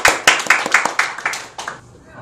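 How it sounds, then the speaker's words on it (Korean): A short burst of scattered clapping from a small group, loud at first and quickly tapering off into quiet. "동의하시는 분들 박수 한번 부탁드립니다"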